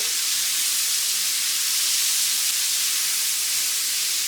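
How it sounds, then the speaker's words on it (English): Bacon and onions for feijoada sizzle in a pan with a steady, close, broadband hiss that stays even throughout, with no talking over it. "I'm going to saute this until it gets a little bit translucent"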